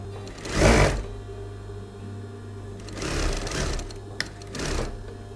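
A sewing machine hems the diagonal edges of a dress being made from a man's shirt, running in three short whirring bursts separated by pauses, close and fairly loud.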